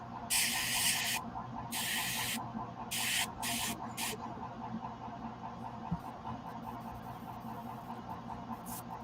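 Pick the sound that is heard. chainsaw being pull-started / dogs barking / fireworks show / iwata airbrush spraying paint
iwata airbrush spraying paint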